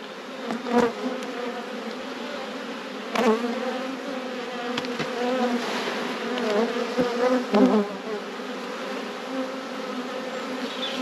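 Honeybees buzz steadily around an open hive during a spring colony inspection, a dense close hum with individual bees swelling louder as they pass near, and no talking.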